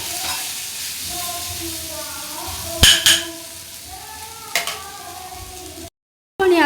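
Ingredients for eggplant bharit are stir-fried in a pan, giving a steady low sizzle broken by a few sharp spatula clinks and scrapes, with a brief silent gap near the end.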